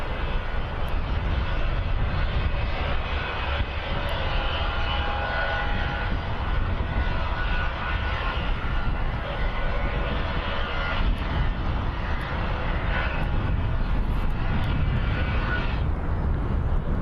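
Airliner engines at Birmingham Airport, a loud continuous roaring rumble that holds steady throughout, broad and dense like a plane on takeoff nearby.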